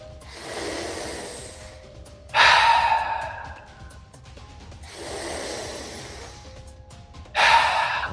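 Deep, forceful breaths during a breathwork exercise, with long audible inhales alternating with sharp, loud exhales in a slow repeating cycle, close to the microphone with no talking.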